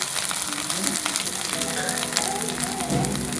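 Beef brain masala stirred in a frying pan, a steady close sizzle of frying under repeated scraping strokes, continuous and fairly loud throughout.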